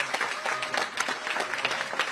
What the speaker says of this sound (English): Give Chairman Harris another round of applause, please.